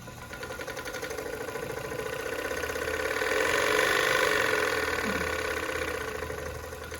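Rimoldi 261 coverstitch industrial sewing machine running steadily while stitching Lycra binding, a continuous mechanical whir with rapid needle rhythm that swells in the middle and eases off, close and fairly loud.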